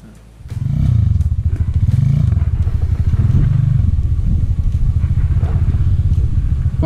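A Suzuki Marengo climbs a hill without using the clutch. Its engine roars loud and close with a strained, rising and falling drone that holds steady throughout.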